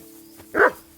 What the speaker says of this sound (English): What's this dog doing here?